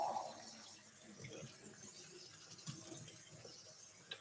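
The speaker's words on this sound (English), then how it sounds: "red lentils need a very good rinse" Tap water runs steadily into a kitchen sink as red lentils are rinsed, a soft continuous wash that stays faint and even throughout, with no talking.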